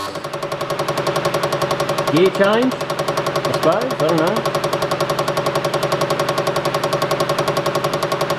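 A Ford TX3 Turbo with a B6T twin-cam engine idles steadily with a rough, pulsing rhythm, cycling through its idle sequence, close and loud, while someone talks briefly over it.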